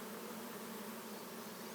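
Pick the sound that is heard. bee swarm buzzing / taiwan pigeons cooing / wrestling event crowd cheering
bee swarm buzzing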